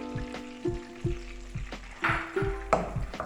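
Chopped onion, garlic, green chili and ginger frying in a pan for a boneless chicken karahi, a soft steady sizzle broken by regular clinks and scrapes of stirring, close by.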